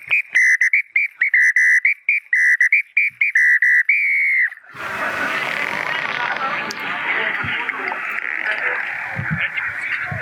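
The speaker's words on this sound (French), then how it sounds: "Après un trou, deux trous, et on a le sifflet brésilien." A Brazilian whistle sounds in a series of short, sharp, shrill blasts in quick rhythmic bursts, then one longer held tone, before a dense noisy wash of sound takes over.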